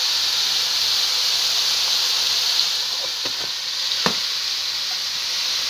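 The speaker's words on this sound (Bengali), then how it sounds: "আলু দিয়ে বেগুন দিয়ে একটু ভাজা ভাজা করে নেব।" Potatoes and eggplant frying with turmeric in a home kitchen pan for a fish curry, a steady close sizzle with a few faint clicks and taps partway through, no talking.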